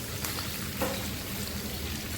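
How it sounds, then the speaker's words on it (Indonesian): Shallots sautéing with cinnamon, cloves, cardamom, lime leaves and lemongrass in a pan over low heat, giving a steady, dense sizzle with a faint stirring scrape partway through. "Nah ini ditumis saja sampai harum."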